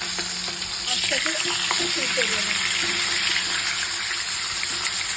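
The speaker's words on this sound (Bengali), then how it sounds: "গরম হয়ে গেছে, এবার মাছের মাথাটা ভেজে নেব" A fish head dropped into hot oil in a pan sets off a loud, dense sizzle that jumps up after a second and then holds steady and close, with no speech over it.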